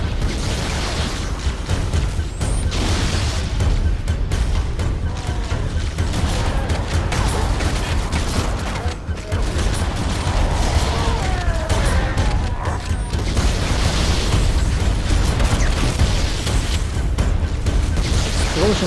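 Dense Halo CE Anniversary campaign battle with booming explosions and bursts of gunfire layered continuously, loud and close, with a player speaking briefly over the chaos.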